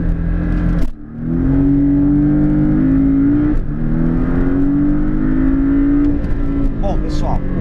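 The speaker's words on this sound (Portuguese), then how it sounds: "Estou acelerando aqui." A car accelerates hard from a standstill to 100 km/h, its engine rising in pitch through a gear change in a loud, steady close-up drone, with a brief dip near the start and a voice speaking over it.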